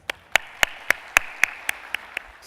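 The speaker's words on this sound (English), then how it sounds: "Let's welcome him with a very big round of applause." About ten sharp, evenly spaced claps in a slow, steady rhythm, sounding like only a few hands, welcome a speaker at a plenary session of the Annual Investment Meeting in Abu Dhabi. The clapping is fairly close and stands alone without talk.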